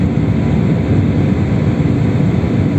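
Steady, loud broadband roar inside an Air France airliner cabin as it climbs through clouds, a constant engine and airflow rumble with no pauses and no talking.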